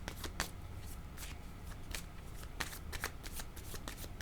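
Tarot cards being shuffled for a card reading, with a steady run of quick, close riffles and soft slaps that continue throughout, fairly quiet and without talk.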